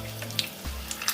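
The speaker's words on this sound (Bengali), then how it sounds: "মাঝারি আঁচে ভেজে নিচ্ছি" Malpua frying on medium heat, a brief soft sizzle with a light utensil touch or two, close by and fairly quiet.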